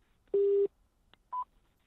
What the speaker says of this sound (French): quand nous essayons de les joindre par téléphone